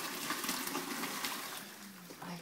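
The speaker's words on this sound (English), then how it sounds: "I'm gonna drain my juice out. Just pour it down the sink." Pork cooking juice is poured down a kitchen sink in a soft, continuous splashing stream, fairly quiet and without talk.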